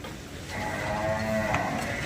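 A water buffalo lows at the Chichawatni livestock market, one long, sustained, fairly loud bellow that rises after a moment and holds steady over low ambient market noise.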